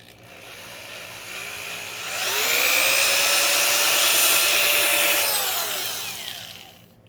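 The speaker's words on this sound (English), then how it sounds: "Really just not a problem drilling through plastic." A DeWalt DW222 power drill spins up and whines loudly and steadily for several seconds, drilling through plastic close by, then winds down.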